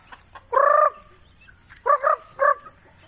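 Hens and chickens cluck and squawk in short loud bursts, one long call followed by a pair and a single, close by with a quiet background.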